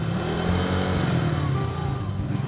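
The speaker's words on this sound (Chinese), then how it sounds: "吹油门" A Kymco G5 scooter converted from carburetor to fuel injection, with its headlight on, holds a steady, loud, close-up engine drone as the throttle is opened, with a slight rise and fall in pitch.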